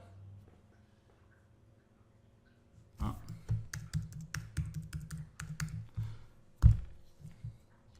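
A password is typed on a computer keyboard at close range, a quick run of irregular key taps with one louder clack near the end, after a few seconds of near silence.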